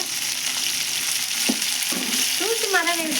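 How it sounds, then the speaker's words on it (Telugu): Onion pieces sizzle steadily in a hot pan for a bitter gourd curry, a constant close frying hiss with a couple of sharp stirring clinks partway through. "ఇవైతే బాగా ఉలిగడ ముక్కలు బాగా ఫ్రై అయినాయండి"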